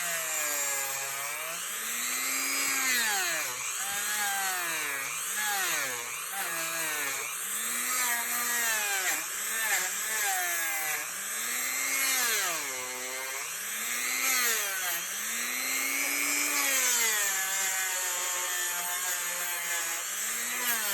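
A rotary polishing tool works silver jewellery around a set stone under firm pressure, giving a continuous whining drone whose pitch repeatedly rises and falls as the load changes.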